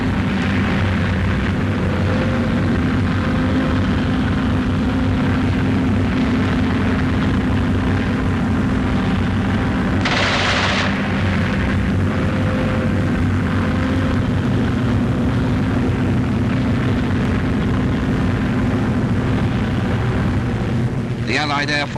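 WWII Marauder bombers fly low over the Channel on the eve of the D-Day Normandy invasion. A loud, unbroken roar of engines dominates, with a voice narrating over it.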